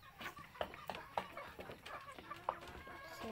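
Chickens on a farm cluck in short, close, irregular bursts over a quiet outdoor background.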